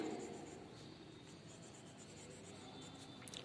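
Pen writing on paper during a class 8 mathematics lesson, a quiet, steady scratching with faint rhythmic strokes, heard alone at low level.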